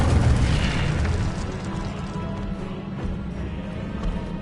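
An Incendio fire spell blasts in Hogwarts Legacy gameplay, a booming, fiery burst that starts loud and then trails off into a rumbling tail.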